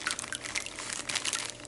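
Water poured from a container into a tank along with a betta fish, a continuous bright splashing and trickling pour heard close up with no talk.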